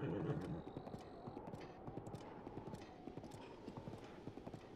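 Hooves of a giant horse in The Legend of Zelda: Breath of the Wild clop in a quick, even rhythm after a brief louder start, moderately quiet and alone.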